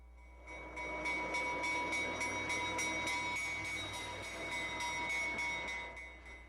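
An early steam railroad train runs on a preserved line, with a steady rhythmic clatter of wagons rolling past and a faint squealing tone above, moderately distant and with no voices.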